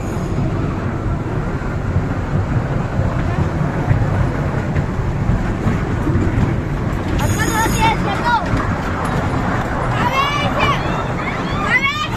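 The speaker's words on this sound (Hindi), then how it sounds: "तो ये टॉय ट्रेन राइड चालू हो गई है" A toy train ride runs at Adventure Island amusement park in Rohini, Delhi, giving a steady rolling rumble beneath continuous crowd chatter, with a few brighter chirps and calls near the end.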